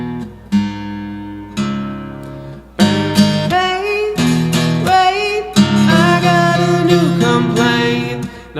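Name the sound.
two hard guitar strums of chords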